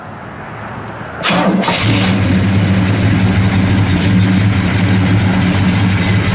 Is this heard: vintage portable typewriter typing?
no